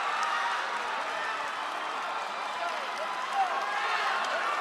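A crowd of Filipino fans roaring at an MMA fight, a dense, continuous wash of cheering and shouting that holds steady throughout, moderately loud and heard from within the arena.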